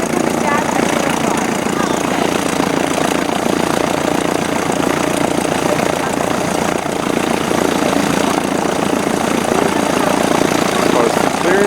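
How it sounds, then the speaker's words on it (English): Glasair light aircraft engine running steadily and loudly during a taxi test, a constant propeller drone with people talking over it. "So here we go for a taxi test."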